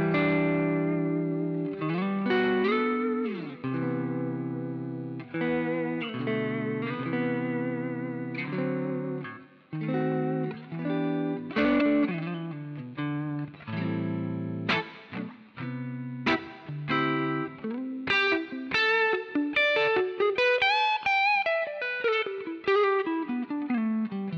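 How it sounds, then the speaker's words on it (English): Electric guitar run through a Blue Cat Audio amp plugin with crunchy distortion and light reverb, playing a steady run of chords and single-note phrases alone, loud and close, with clear swells and pauses in dynamics. "I've gone for a crunchy sound with a bit of reverb, something simple, just to show the dynamics."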